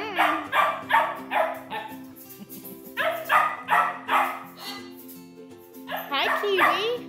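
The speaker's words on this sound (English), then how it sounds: "You keep barking at him like that, he's gonna bark back." Several dogs bark back and forth at one another in sharp, excited bursts during an evening play session, the barks loud and close, while a person talks between them.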